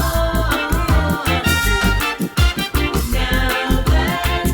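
A song plays loudly, a full band mix with a steady thumping beat, bass and layered instruments, with no speech over it.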